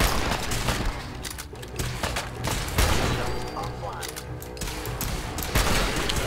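Gunfire in the Fallout 4 video game during a raid, with a steady busy stream of shots and mechanical clatter running through the whole stretch under game noise.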